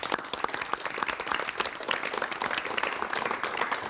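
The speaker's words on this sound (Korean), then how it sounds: "여러분 많은 박수를 부탁드리겠습니다" A studio audience in a 1988 Korean television talk show bursts into sustained, dense applause, steady and loud for the full stretch with no voices over it.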